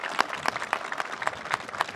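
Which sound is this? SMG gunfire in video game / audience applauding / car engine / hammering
audience applauding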